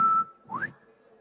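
A retail product display emits a whistle when someone comes within five feet, a short steady tone followed by a quick rising wolf-whistle sweep, clear and fairly close with no voices.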